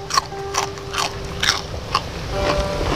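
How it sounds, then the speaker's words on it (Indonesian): Close, crisp crunching bites and chewing of food, peanuts among the dishes, eaten outdoors in a garden, several sharp bites at a fairly even pace with no talking. "Langsung aja kita makan."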